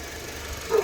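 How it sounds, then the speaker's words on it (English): A 2012 Honda Civic engine idles smoothly and steadily at close range, a low even hum with a faint rise near the end. "Nice and smooth engine."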